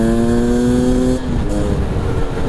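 Husqvarna TE250 two-stroke fuel-injected dirt bike engine, close and loud, holding a steady high-pitched idle-like drone that drops off abruptly midway and continues as a rougher, lower running rumble with no speech.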